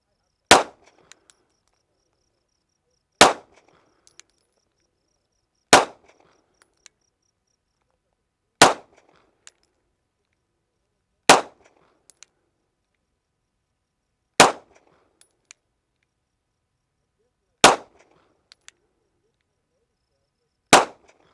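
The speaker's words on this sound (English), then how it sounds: "Let's put some rounds down range." Eight sharp pistol shots of Blazer Brass 115 ammunition, fired at a target about 7 yards away with a red dot sight, come loud and evenly spaced roughly three seconds apart, with quiet gaps and faint clinks between them.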